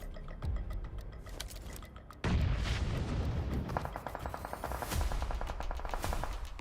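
Explosive blasts and rapid gunfire from PUBG Mobile in a tournament match, a loud bang near the middle followed by dense, crackling bursts of shots and mechanical rattling, heavy and continuous throughout.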